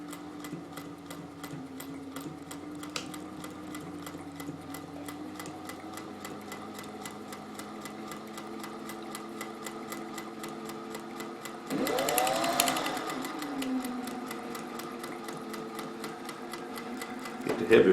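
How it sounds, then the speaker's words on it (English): A sewing machine hums in a steady, rapid stitching rhythm while sewing repeatedly across a cotton face mask tie, briefly growing louder and rougher partway through before settling back to an even drone. "we're going to sew across of our tie several times to make sure it's secured"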